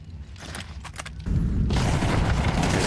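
Rapid bursts of MAC-10 submachine gun fire in a Counter-Strike esports match, loud and dense, starting mid-clip and continuing as a sustained crackling volley after a quieter opening.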